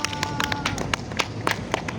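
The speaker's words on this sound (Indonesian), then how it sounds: "Ayo kita kasih tepuk tangan dulu" A primary school class claps for a group of pupils during a grade 3 science lesson, a quick run of sharp, fairly even claps heard close by.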